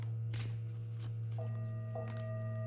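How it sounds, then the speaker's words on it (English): A deck of cards being shuffled at close range during a card reading, with soft riffling bursts repeating every half second or so over a steady low hum, with no talking. "We're going to shuffle,"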